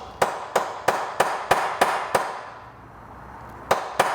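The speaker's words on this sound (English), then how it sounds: "you could tap the rivets the last little bit with a punch" A hammer striking a punch taps rivets on the lock of a 1978 Vespa P200E scooter, giving seven sharp, evenly spaced metallic knocks, a pause, then two more close taps.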